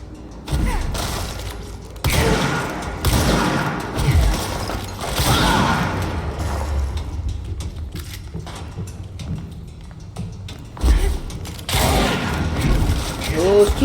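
Shotgun blasts in the video game Control come in a string of loud, punchy bursts spread irregularly across the stretch, separated by quieter gaps with a low background rumble.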